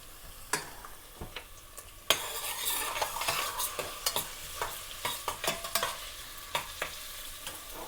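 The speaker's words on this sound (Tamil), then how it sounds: "இதுவும் கொஞ்சம் சின்ன நெருப்பில் கிடந்து இதுவும் நல்லா பொரிஞ்சு வரட்டும்." Garlic and ginger frying gently over low heat in a pan, a soft continuous sizzle with repeated sharp clicks and scrapes of a spoon stirring against the metal, close and without speech.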